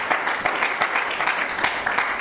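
A church congregation applauds during a worship service, a dense, steady patter of many hands clapping throughout, with faint voices mixed in.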